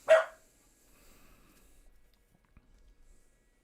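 A dog gives a single short, sharp bark close by at the start, followed by faint rustling and near silence.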